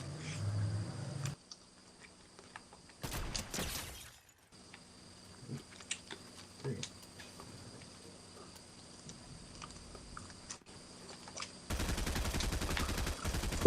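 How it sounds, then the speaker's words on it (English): Bursts of rapid gunfire crackle in two clusters, one brief and one longer near the end, with a faint ringing hum between them. "Who's shooting?"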